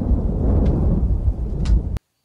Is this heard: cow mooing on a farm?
no